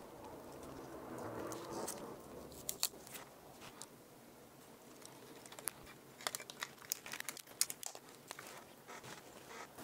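Packing foam being pulled and torn out of a junk-mail video mailer during a teardown, close crinkly crackling and scattered sharp snaps with no talking.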